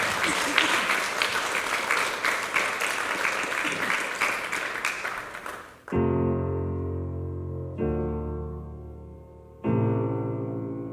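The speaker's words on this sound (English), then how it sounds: "a massive round of applause for" Audience at a talent show applauds a contestant for about six seconds, dense and steady clapping that ends abruptly as piano chords begin.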